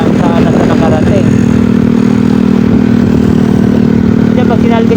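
Motorcycle engine on an adventure ride toward a nature park, giving a steady, loud droning hum that runs the whole time while a voice talks over it.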